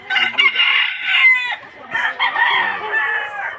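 A gamecock rooster on a fighting-chicken farm crows loudly and close by, two long cock-a-doodle-doo calls following one another with no talk over them.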